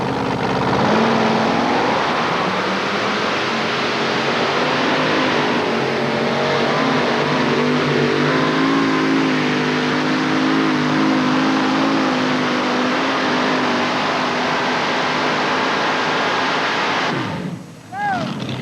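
A heavy pulling tractor engine roars and revs steadily for a long stretch at a 1989 tractor pull in Columbus, Ohio, loud and sustained, then cuts off abruptly near the end.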